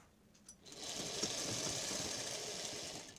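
Electric sewing machine stitching a fall onto a saree, a steady continuous mechanical whir and rattle starting after a brief quiet moment and running on without pause.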